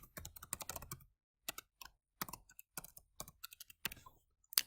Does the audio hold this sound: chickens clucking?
no